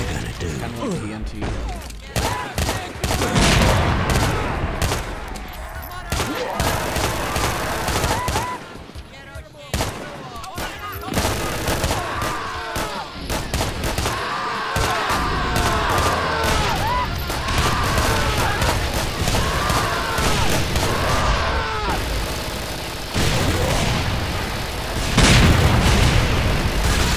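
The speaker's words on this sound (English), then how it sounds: "So all the bullets are bouncing off of me." Dense gunfire and booming explosions in the Doom 2 game, a custom map, rapid repeated shots and blasts layered with monster noises, loud and continuous, with someone talking intermittently over the action.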